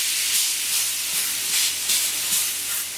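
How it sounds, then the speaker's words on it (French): A marinated, spice-crusted rib of beef sizzles steadily in a hot pan, a loud, close hiss that swells gently in waves, with no voices. "Nous allons retourner une première fois la côte de bœuf. Donc ça fait déjà 5 minutes qu'elle cuit."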